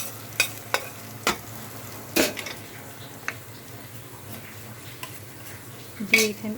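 Spices tempering in hot oil for a thin, rainy-day khichuri, giving a steady low sizzle marked by several sharp clinks and scrapes of a utensil against the pot, heard up close with no talking.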